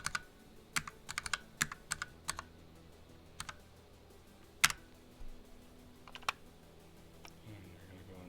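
Typing on a computer keyboard to enter an IP address, with quick bursts of close, crisp key clicks separated by short pauses and a louder isolated tap midway.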